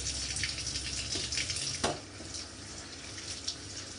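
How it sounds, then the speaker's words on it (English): Vegetables are washed under running water, a faint steady splashing stream with a brief louder gush near the middle. "No, you must wash your vegetables."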